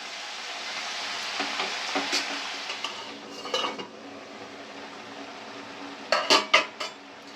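Spinach and vegetables are stirred in a cooking pan for a Bengali-style spinach dish, with a soft sizzle running underneath and a spoon scraping and clinking against the metal in a few short bursts, loudest near the end.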